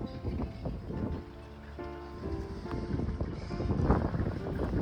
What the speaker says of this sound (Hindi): इस समय बहुत तेज़ हवाएं चल रही हैं